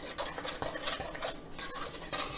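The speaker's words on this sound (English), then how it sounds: "And you want to give that a really good stir." A spoon scraping and stirring a thick vital wheat gluten mixture for vegan fish patties in a bowl, close and continuous with rhythmic rubbing strokes, no voices.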